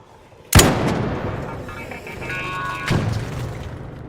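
Two heavy gunshot booms in the game Arc Raiders, one sharp blast early and a second about two seconds later, each with a rolling echoing tail.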